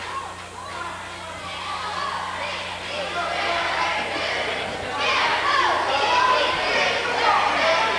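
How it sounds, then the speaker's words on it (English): Crowd noise in a gym during a wrestling tournament, a steady mass of voices and cheering that swells louder in the second half, with commentary speech over it. "Crowd's into it."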